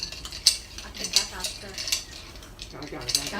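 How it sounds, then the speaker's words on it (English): A mixture stirred in a pot or bowl with a metal spoon, repeated scraping clinks in an uneven rhythm, close by with faint background noise. "Stir until it becomes like that."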